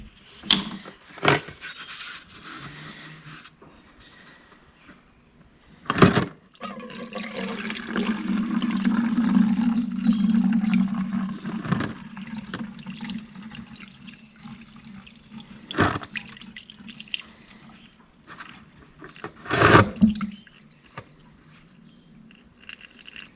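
Mechanical fuel injectors from a 1971 Mercedes-Benz lifted out of a soaking bath of cleaner, with sloshing and dripping liquid, a sustained watery stretch in the middle and a few sharp clunks, close and fairly quiet.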